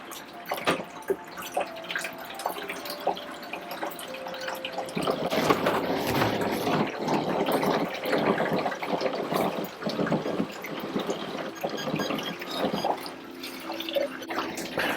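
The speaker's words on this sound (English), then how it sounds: "after our stop bath, there is a 30-second rinse that we're supposed to do." Rinse water runs over photographic film after the stop bath in color film processing, a steady close trickle and splash with scattered drips.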